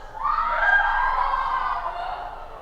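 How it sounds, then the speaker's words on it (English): Women's high-pitched cries rise offstage during a stage production of Macbeth, a sustained, wavering wail that swells early and fades slowly, heard alone without speech. "It is the cry of women like a bird."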